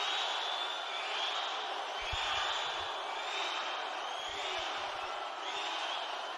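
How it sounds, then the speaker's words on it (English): A packed crowd roars and cheers continuously at a swimming finals meet, a dense sustained wall of noise filling an indoor natatorium, with brief low thumps beneath. "Listen to this crowd go nuts."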